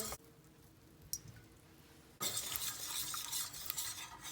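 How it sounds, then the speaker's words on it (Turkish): A spoon stirs a flour and oil mixture in a pan on the stove, first soft scraping, then a louder continuous sizzling, slurring stir close by. "Şöyle gördüğünüz gibi içinde rahat bir şekilde karıştırılabilecek"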